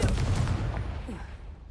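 The Confringo spell goes off in Hogwarts Legacy as a short, heavy explosive boom with a rumbling low tail that fades over a second or so, set against game sound.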